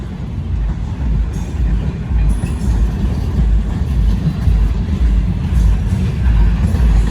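A loud freight train with loaded two-level auto rack cars rumbles steadily past nearby, a continuous low roar of wheels and rail noise with no talk.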